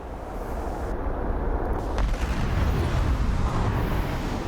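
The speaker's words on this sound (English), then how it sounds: "I don't know if I was too steep, but the bombs went straight into the ground, so worthless" Bombs from an F-15E Strike Eagle in a DCS combat flight simulation slam into the ground, a deep rumbling blast that swells and rolls on heavily for several seconds.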